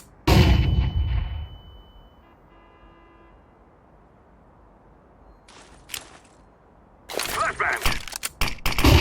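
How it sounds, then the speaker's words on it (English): A flashbang grenade in Counter-Strike 2 bursts with a loud, sharp blast that rings out and decays, followed by a high ringing tone. A quieter click comes later, then a noisy clatter of game sounds near the end. "I'm throwing a flashbang."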